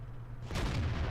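ELC AMX light tank gun firing in World of Tanks, a single sudden booming shot that cuts in midway and rumbles low, quiet overall.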